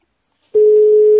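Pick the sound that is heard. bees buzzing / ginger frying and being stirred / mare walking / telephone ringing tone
telephone ringing tone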